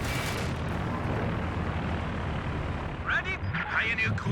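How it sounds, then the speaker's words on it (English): A Company of Heroes 2 anti-tank plane roars in over steady rumbling battle noise, with a sharper burst of whining engine and gunfire toward the end. "the anti-tank plane's called in to finish the job over there"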